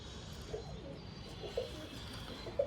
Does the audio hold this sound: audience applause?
no